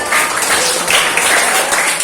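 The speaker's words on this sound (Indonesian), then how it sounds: "Terima kasih tepuk tangan buat Haikal" Classroom applause for a student breaks out as a dense, even patter of many hands clapping. It holds steady for about two seconds, loud and near.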